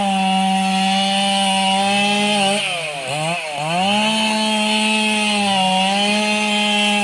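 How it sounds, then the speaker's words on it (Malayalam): A fire-service crew's chainsaw cuts a tree that fell across the Bonakkad road in Thiruvananthapuram. The engine screams loud and close, dips briefly as the blade bites into the wood, then revs back up to a steady high whine. "വിദുര ഫയർഫോഴ്സ് എത്തി മരം മുറിച്ചുമാറ്റി"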